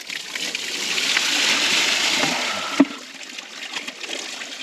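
Water falls and splashes steadily at the Naldeshwar Mahadev shrine near Alwar, a constant rushing spatter that swells then eases, with one sharp knock near the end.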